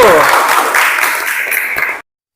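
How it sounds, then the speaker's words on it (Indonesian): Applause in an Islamic religious education classroom, students clapping for a classmate, a dense burst of clapping that is loud at first, fades slightly and cuts off after about two seconds. "Tepuk tangan untuk Salju."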